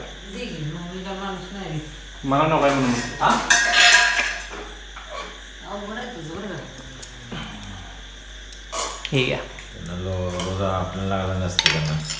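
Spoons and dishes clink and clatter in a home kitchen during puri misal preparation, with bright metallic rattles under frequent speech and some kitchen hiss.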